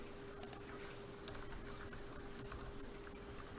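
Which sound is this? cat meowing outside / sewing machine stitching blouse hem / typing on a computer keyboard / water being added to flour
typing on a computer keyboard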